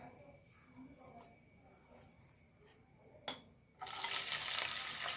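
Sliced ginger drops into hot oil in a pan for a Kerala vadukapuli lime pickle, setting off a sudden loud, steady sizzle after a few seconds of quiet clinks and faint stirring.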